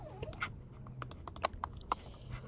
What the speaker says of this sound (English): So just hit T on your keyboard and type real-time